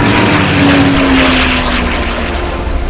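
A propeller airplane engine drones steadily and loudly in flight in the video game Iron Wings, a continuous heavy hum with a faint rising tone partway through and no speech.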